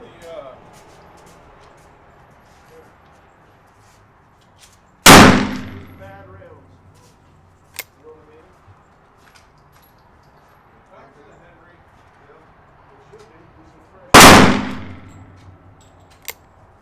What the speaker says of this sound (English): the caps I'm using are the Remington number 10 percussion caps.